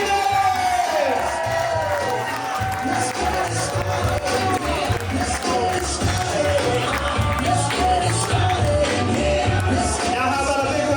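Wedding reception guests cheer and whoop loudly for a couple, a dense crowd roar with shouts and some clapping, while music plays underneath and voices call out throughout.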